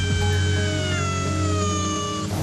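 A semi-feral cat meows steadily against a constant low hum, with its voice drawn out and fairly close.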